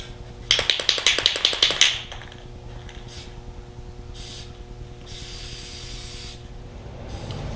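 A spray can lays a varnish coat on a homemade Baltic birch plywood ukulele in a workshop: a rapid series of short rattling hisses, then several longer, softer spray bursts separated by quiet pauses.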